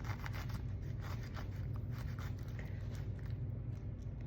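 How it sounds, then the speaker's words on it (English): A knife cuts slices off a pineapple near the core, giving a steady, close scraping and rasping texture over a low background hum, with no speech. "And then you cut down near the core, and you cut those slices off."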